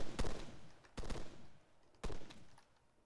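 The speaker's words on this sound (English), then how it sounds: "Shots right." Three separate gunshots in the military shooter ArmA 3, spaced about a second apart, sharp and loud, each with a decaying tail and no talk between them.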